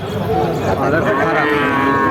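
A crossbreed calf at a busy cattle market moos in one long, loud call close by, set against dense crowd noise.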